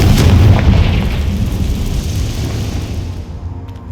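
Confringo blasting spell in Hogwarts Legacy: a loud, heavy boom hits at the start, then a deep rumbling roar fades slowly over several seconds.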